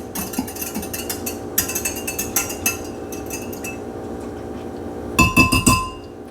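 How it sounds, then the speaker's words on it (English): Yeast mixture being whisked in a glass bowl for bread dough: quick bursts of bright clinking and tapping from the whisk against glass, with a busier, louder flurry near the end and quieter stretches between. "And then just whisk it up."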